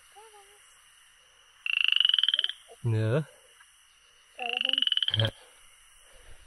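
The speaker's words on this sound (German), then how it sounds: "Der Kröterich! Schaut euch den an!" Two loud, rattling croak calls from a toad beside a mountain hiking path, each a pulsed burst about a second long, with short voiced sounds between them and a faint steady hiss behind.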